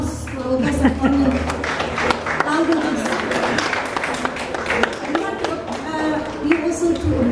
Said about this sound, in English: Please give a round of applause to our guest of honor.